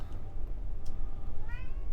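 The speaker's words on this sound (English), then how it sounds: "Meow." Cat meows in a sci-fi moon exploration video game, a couple of short, moderately faint mews over a steady low rumbling background, with no speech.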